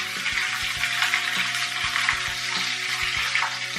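Battered chicken pieces sizzle loudly in hot oil in a pan for a first fry to seal the coating, with a steady hiss and crackle and a few soft knocks and scrapes as a spoon breaks them apart.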